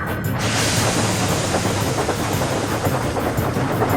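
Fuel train rolling along the rails, a loud continuous rumble with rhythmic clatter and hiss, steady and close throughout.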